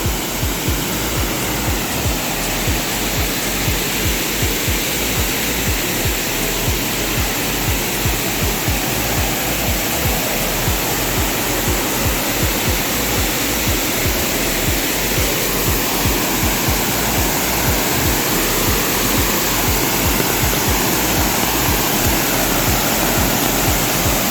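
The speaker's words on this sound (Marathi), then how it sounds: "असं सुंदर असं फेसाळतं पाणी" A foaming waterfall near Kudshet village in Shahapur roars close by as a dense, unbroken rush of falling water, loud and steady throughout with no voices.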